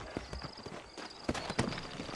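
Horse hooves clip-clopping in the 2010 video game Red Dead Redemption, a loose walking rhythm of soft thuds over a faint background hum, with a couple of sharper, louder steps near the end.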